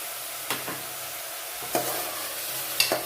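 Brinjal, cauliflower, peas, carrot and tomato sizzle in a pan for pav bhaji, with a steady frying hiss broken by three distinct spatula scrapes as the vegetables are stirred.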